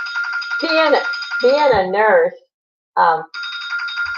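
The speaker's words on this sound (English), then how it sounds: "my phone's ringing and I'm not answering it." A mobile phone rings with a steady electronic tone that runs under a woman's speech and cuts out briefly when the talking stops.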